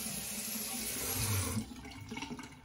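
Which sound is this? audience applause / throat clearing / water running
water running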